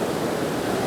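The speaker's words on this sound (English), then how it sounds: "See that waterfall out there" A loud waterfall at High Falls, Alabama roars as a dense, continuous rush of broadband water noise, heard close and steady with no voices.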